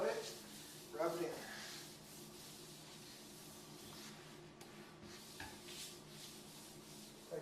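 Cloth rubbing sealer into a light, porous granite countertop, a soft close scrubbing and hissing swish with a few stronger strokes, under intermittent talk.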